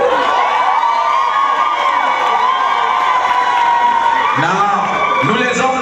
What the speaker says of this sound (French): Acclamez fort pour madame alors.